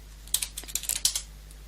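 Fingers type quickly on a computer keyboard at a Linux terminal, about a dozen crisp, close key clicks in a short burst over a low steady hum.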